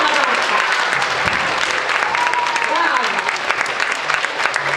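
Dense, sustained applause from a theatre audience for an acrobatic jump during a children's movement-theatre show in Lubin, a steady wash of clapping with no breaks, filling the whole stretch.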